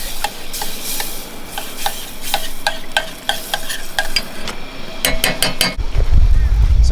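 Chilies and garlic simmering in a pan, a steady loud sizzle with regular ticking scrapes of a utensil, then a brief burst of clinks and a low rumble at the end.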